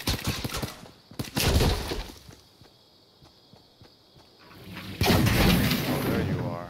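Gunfire in the video game Fortnite comes in two loud bursts of rapid, crackling shots, one short and one longer near the end, with a player talking in between.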